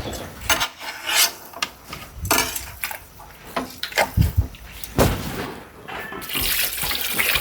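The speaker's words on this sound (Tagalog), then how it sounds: "Kaya ngayon, ang gagawin natin, ariyo mong haluin yan." A spoon scraping and stirring arroz caldo in a pot, in irregular wet swishes and rasps with uneven rhythm, close and fairly loud.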